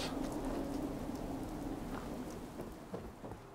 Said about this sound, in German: Da sind wir beim richtigen Wetter hier in die Kirche gegangen. Bei Regen, Regen und Gewitter.